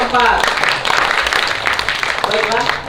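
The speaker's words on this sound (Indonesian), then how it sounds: "Beri tepuk tangan kepada pasangan nomor 4" Audience applauding contestant pair number 4 at a school language ambassador competition, steady dense clapping throughout, with voices speaking at the start and end over it.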